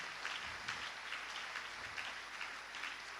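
A church congregation applauding at a French-speaking service, a steady wash of clapping from many hands, fairly faint and distant, with no distinct voices above it.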